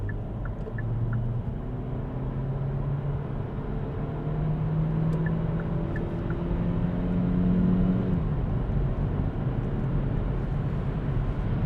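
Kia Xceed PHEV plug-in hybrid under full throttle, heard from inside the cabin as a steady low engine drone with rising tones that climb, drop and climb again over a constant road rumble.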